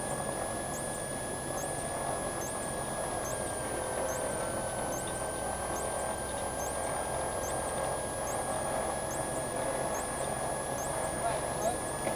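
A Cessna's engine drones steadily in flight, a constant loud cabin roar with a high whining tone, while people talk over it.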